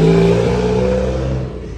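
A Subaru car engine revs loudly close by while driving past, a strong throaty drone that eases off slightly toward the end.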